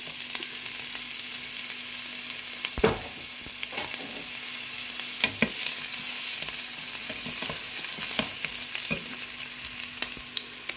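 Garlic and onion frying in palm oil for smoked fish in peanut sauce, a steady crackling sizzle with occasional spoon scrapes and taps, close and continuous with no voices.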